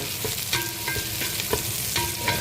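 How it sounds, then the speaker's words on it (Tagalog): Onion, garlic and smoked fish (tinapa) being sautéed in a pan, with a continuous close sizzle broken by regular spatula scrapes and clinks about every half second, with no talking. "Gisa muna ng tinapa."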